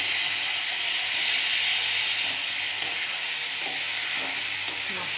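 A spice paste of cumin, ginger and green chilli fries in a pan for a pabda fish curry, giving a loud, continuous sizzling hiss with occasional soft scrapes of stirring and no voices.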